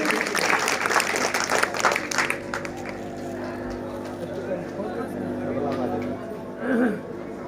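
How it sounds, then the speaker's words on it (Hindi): Applause breaks out from guests at a wedding ceremony, loudest at first and then thinning into crowd chatter and murmuring voices. "एक बार जोरदार ताली आप लोग।"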